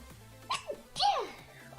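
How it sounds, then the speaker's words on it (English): A person sneezes: a short intake breath, then one loud, sharp sneeze with a trailing exhale, close and alone. "I gotta sneeze."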